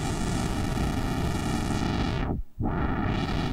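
Crunchy digital clock noise from a Neutron Sound Dust of Time synthesizer, a dense continuous buzzing hiss with a brief filtered dip and swoop near the end.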